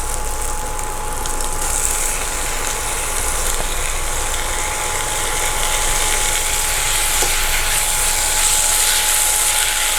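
Tomatoes go into a hot pan for foxtail millet vegetable biryani, a loud, steady sizzle and hiss that continues evenly throughout with no talking.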